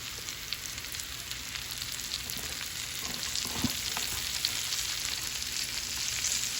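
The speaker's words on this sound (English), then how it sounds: "And now I'm going to add my sliced mushrooms." Sliced supermarket mushrooms frying in a pan after the veal has cooked for a veal Marsala, a steady soft sizzle with faint crackles and occasional stirring scrapes.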